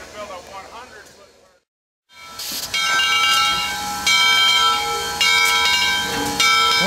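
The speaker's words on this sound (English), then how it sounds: "Steam engine number 630, built in 1904" Steam locomotive number 630, built in 1904 by the American Locomotive Company, lets out a loud, sustained hiss of steam after a short silence, with faint ringing tones over it.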